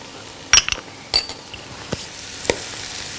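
A spoon scrapes and clinks against a pot while spiced lamb neck is stirred, a few sharp metallic knocks over a faint sizzle, close and fairly quiet with no talking.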